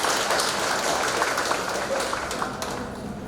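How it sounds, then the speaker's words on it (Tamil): Strong audience applause at a trust's fifth anniversary inauguration ceremony in Theerthamalai, Harur, Dharmapuri district, a steady wash of many hands clapping that tapers slightly toward the end. "திரு மகா பாபாஜி அவர்களை நாம் பலத்த கைத்தட்டலோடு பாராட்டுகிறோம்"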